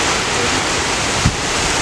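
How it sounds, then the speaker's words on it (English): Strong wind gusting outdoors during a heat wave, a loud, steady roar buffeting the microphone throughout, with one brief thump partway through. "this wind is absolutely insane"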